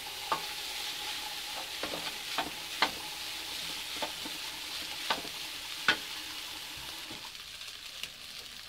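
Rice and raw egg stirred and fried in a hot pan over high heat, with a steady sizzle underneath and sharp scrapes and taps from the utensil at irregular intervals, close and moderately loud, with no talking.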